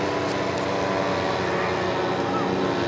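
Model airplanes buzz overhead at a radio-control flying jamboree, a continuous dense engine and propeller drone filling the whole stretch at steady loudness, with no clear pauses.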